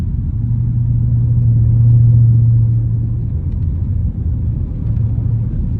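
A Jeep SRT on Pirelli Scorpion Verde tires pushes through snow and heavier slush, giving a steady, loud low engine rumble with a faint tonal hum that swells and eases.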